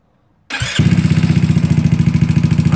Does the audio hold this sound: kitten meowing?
no